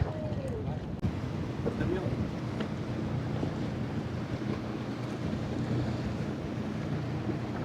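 A boat sets off to sail on open water, with a steady, broad rush of wind and water that continues without a break throughout.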